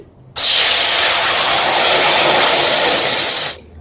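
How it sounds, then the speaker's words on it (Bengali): Water poured into a hot wok after burning onion skins to ash bursts into a loud, close hiss of steam that holds steady for about three seconds, then cuts off. "এই কড়াইয়ের মধ্যে কিছুটা জল দিয়ে দিচ্ছি"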